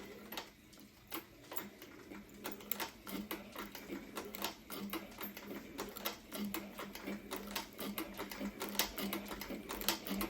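A sewing machine stitches leather cheek pieces for a horse headstall with a quiet, rapid, steady ticking that runs through the whole stretch, fairly close and without talk.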